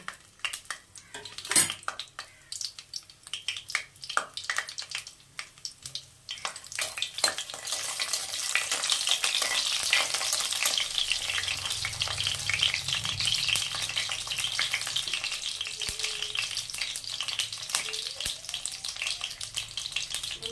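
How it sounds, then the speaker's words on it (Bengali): Bori lentil dumplings dropped into hot oil in a home kitchen, a quiet start with clinks of utensils, then a steady loud bubbling sizzle with scattered spoon and pan knocks throughout. "বড়িটাকে ভেজে নেব"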